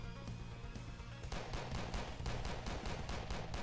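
Rapid automatic gunfire in a shooter game, a fast regular stream of loud, close shots that grows harder and steadier partway through, with no talking.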